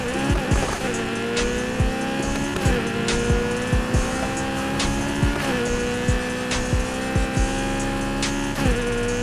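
Race cars in Need for Speed Heat, including a Honda S2000 race build, roar at high revs with repeated gear-shift drops and tire squeals, loud and continuous throughout a race start.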